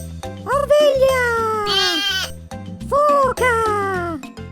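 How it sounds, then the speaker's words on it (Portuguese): A cartoon sheep bleats in wavering cries over bouncy background music in an animated educational children's show about animals. "Ovelha!"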